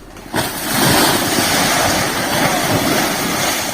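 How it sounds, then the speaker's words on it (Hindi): Storm wind and rushing floodwater roar loudly and continuously beside an eroding riverbank near a village, a dense wash of noise that surges in after a brief quieter start. "तूफान हो रहा है, तूफान हो रहा है, तूफान देखिए।"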